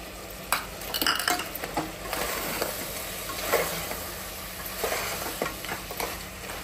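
Mutton curry being stirred in hot oil after chili powder goes in, a continuous sizzle broken by repeated spoon scrapes and clinks against the pot, close and unhurried.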